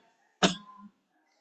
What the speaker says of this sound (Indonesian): Batuk ini tadi.